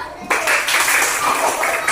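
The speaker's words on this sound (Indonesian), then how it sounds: "Tepuk tangannya" A classroom audience claps after a group presentation, a short burst of close, bright applause starting abruptly and continuing in uneven waves.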